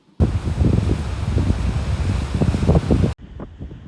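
Strong wind roars against the microphone on the Icelandic coast, a loud, close, gusting rush that suddenly cuts off near the end, leaving fainter blustery noise and no talk.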